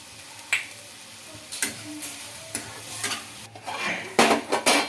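A spoon stirs tomatoes, tamarind and unpeeled garlic cloves in a pan for a pudina roti pachadi, with repeated scraping clinks against the metal over a soft sizzle, close and irregular.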